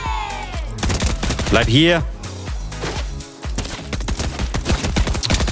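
Rapid gunfire in the video game Fortnite, loud dense bursts of shots and impacts that fill nearly the whole stretch, heard close up, with someone talking over the shooting.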